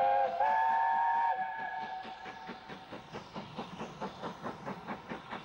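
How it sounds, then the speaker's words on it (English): Steam locomotive Camelot, a former Southern Region King Arthur class engine, hauls a Bluebell Railway train of Southern green coaches: a sustained whistle blast, then a steady rhythmic exhaust beat that builds in pace, heard from a moderate distance. "Camelot heads a Bluebell railway train made up of the southern green stock"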